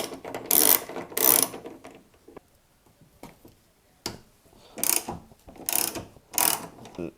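A ratchet works on 10 mm hinge bolts on the hood of a 2013 Porsche Boxster, with two loud close bursts of clicking, a quiet pause with faint clicks, then three more rasping ratchet runs.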